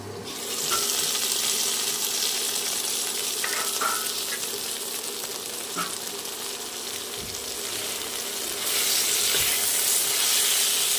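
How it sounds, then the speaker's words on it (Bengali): Okra (bhindi) sizzles steadily in a pan, a continuous hiss with occasional faint clinks and stirring sounds, growing slightly brighter near the end; no talking. "দেখো বন্ধুরা, ভেন্ডিগুলো একদম ভাজা হয়ে গেছে আর নরম হয়ে গেছে।"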